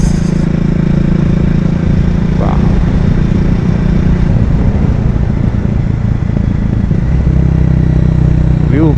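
Motorcycle on a scenic road between Kokan and Pune, captured from a helmet microphone: loud, steady engine drone and rushing wind throughout, with a voice talking faintly underneath.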